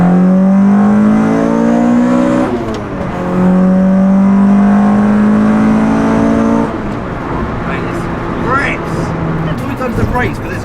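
A Citroen Saxo accelerates hard through the gears, its engine note climbing steadily, dropping at each shift and climbing again, loud and close from inside the car, with occasional talk from the occupants.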